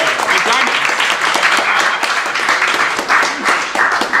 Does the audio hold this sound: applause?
yes